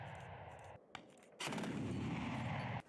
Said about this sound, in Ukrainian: А неподалік зенітники стріляють по світловій міні